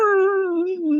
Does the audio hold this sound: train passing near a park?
no